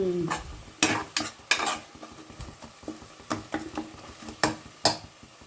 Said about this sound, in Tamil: இப்போ நம்ம வதக்கிக்கலாம். பச்சை வாசனை போகிற வரைக்கும் நாம் வதக்கிக்கலாம்.